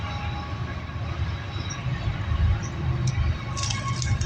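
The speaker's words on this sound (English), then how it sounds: "Here comes another train." A train rumbles steadily in the distance beside a highway, a low continuous roar with faint metallic squeals near the end.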